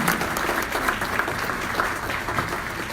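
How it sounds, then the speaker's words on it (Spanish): A church congregation at a thanksgiving service claps hands in a loud, steady rhythmic beat that fills the room without a break for three seconds. "Fuerte las palmas"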